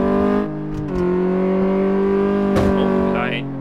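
A car engine in the Car Mechanic Simulator 2014 video game drones steadily at a sustained pitch during a brake-testing drive, with brief dips and a short squeal-like burst near the end, close and loud.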